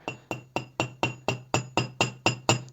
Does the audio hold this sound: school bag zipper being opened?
no